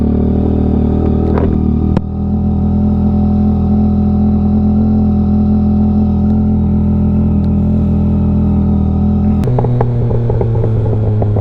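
A 2022 Yamaha XSR900 motorcycle with a VCYCLENUT tune hums in a steady, loud idle-to-cruise drone. Near the end a sharper throttle blip brings a rougher, clattering edge.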